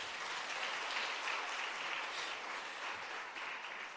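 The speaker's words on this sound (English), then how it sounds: "Can you clap hands for yourself?" Audience members at a hybrid workshop clap for themselves, a dense, even round of applause sustained from start to finish without speech.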